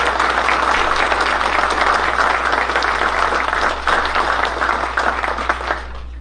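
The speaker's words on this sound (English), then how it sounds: "Join me in a round of applause." A crowd at a military promotion ceremony for an Air Force chaplain claps in a long, loud, even round of applause that tapers off near the end, with a low steady hum underneath.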